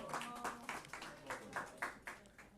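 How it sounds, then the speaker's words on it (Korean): Rhythmic clapping from a church congregation during a weekday worship service, about eight even claps in steady time, moderately close, with a faint tonal murmur underneath. "박수 한번 쳐주세요"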